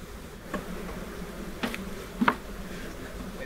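A honey bee swarm hums around a small nuc hive box, a faint steady drone punctuated by a few louder buzzing passes close to the microphone.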